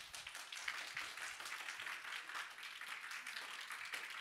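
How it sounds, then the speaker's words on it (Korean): A church congregation gives quiet, encouraging applause for the children of the new generation department, soft and steady throughout. "우리 아이들 위해서 우리 격려의 박수 한번 드리도록 하겠습니다"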